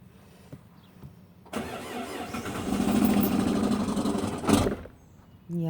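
A 2013 Dodge Dart with a stuck clutch pedal held down cranks after a quiet pause, then catches into a rough, loud engine roar that swells, peaks with a burst and drops off abruptly as it stalls.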